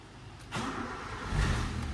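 A Nissan Sentra with an ignition primary fault cranks and catches, its engine rising into a low rumble that grows louder toward the end, heard alone and fairly faint.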